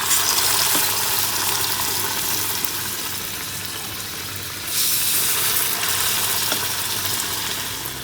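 Dahi bhalla batter of mung and mash daal fries in hot oil, a loud steady sizzle and crackle that surges in intensity midway, close up and without any talking.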